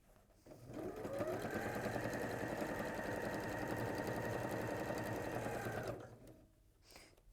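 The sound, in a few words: sewing machine stitching a seam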